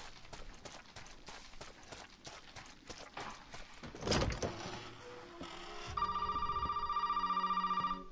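A telephone ringing in Resident Evil 7, arriving after footsteps and a loud thud as a rapid trilling bell that repeats steadily and clearly at close range.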